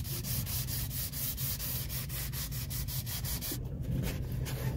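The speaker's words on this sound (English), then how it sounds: "Alright, so I just finished sanding." Hand sanding teak with sandpaper: quick, rhythmic back-and-forth rubbing strokes, close and steady throughout, with no talking.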